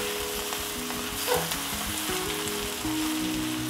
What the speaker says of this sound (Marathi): मग आता मी थोडी थोडी भाजी टाकून ना हलवून घेते आणि मग राहिलेली भाजी टाकते